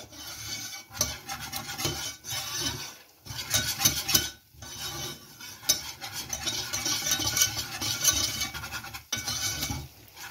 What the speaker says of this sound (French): On mélange le tout pour faire une petite pâte.